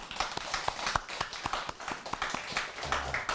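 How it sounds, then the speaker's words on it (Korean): Audience members at a Buddhist temple sermon clap, a modest scattering of distinct hand claps in a loose, uneven rhythm, fairly close with no talk over them. "박수 한번 보내드려야 됩니다."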